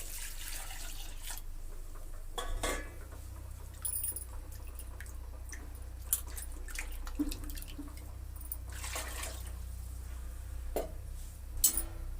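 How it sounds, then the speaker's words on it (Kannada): Water is poured into a brinjal and lentil curry on the stove in soft, intermittent splashes and trickles, quiet and close in an otherwise calm kitchen. "ಸ್ವಲ್ಪ ನೀರು ತೊಳೆದಾಕ್ತೇನೆ."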